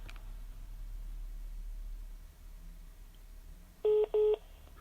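Two short, loud, clean dialing beeps from a telephone call come in quick succession near the end, following a stretch of low, quiet background hum with no talk.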